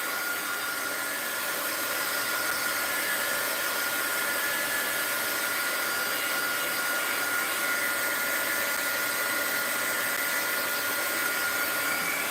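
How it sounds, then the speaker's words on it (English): A heat gun blows continuously at close range while drying a mixed-media art journal page, producing a loud, steady whooshing roar with no breaks and no talking. "Heat gun alert. Heat gun alert. Let's dry this off a little."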